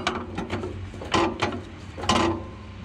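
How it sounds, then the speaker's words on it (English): Brake pedal and clutch linkage moving on a John Deere 450B dozer, a few close metallic clunks and ratcheting clicks in uneven bursts, fairly quiet with no talk. "I'll step on the brake pedal to demonstrate."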